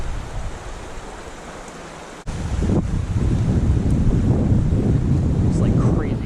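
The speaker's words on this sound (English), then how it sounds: "It's like crazy wind is messing up my cast stuff." Strong gusts of wind buffet the microphone outdoors during fly fishing, a loud continuous rumbling roar that swells after a brief dip and keeps blowing steadily.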